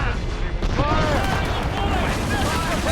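Naval cannon volley in Assassin's Creed Rogue, a dense rumbling barrage of booms under shouted commands and battle voices, sustained and loud throughout.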